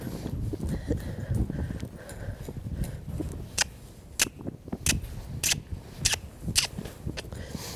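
Horse being led forward while a colt is started, hooves clip-clopping in an uneven walking rhythm, with sharp distinct strikes standing out over a low rumbling background.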